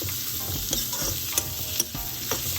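Chopped tomatoes fry and get stirred in a pan for a kulambu, a loud continuous sizzle broken by several crisp ladle taps and scrapes against the pan.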